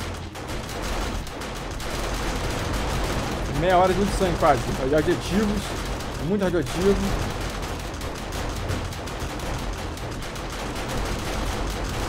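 Sustained automatic gunfire from base defences hits zombies crowding a staircase during a blood moon in 7 Days To Die, a steady rattling barrage running the whole time beneath someone talking.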